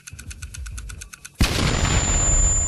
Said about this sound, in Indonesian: sebuah mobil kecil meledak